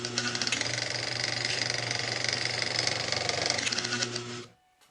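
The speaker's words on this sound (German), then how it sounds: "Bohrmaschine." A drill press runs steadily and loudly for about four and a half seconds, giving off a dense mechanical whir with a low hum beneath it, then stops abruptly and leaves near silence. No talking.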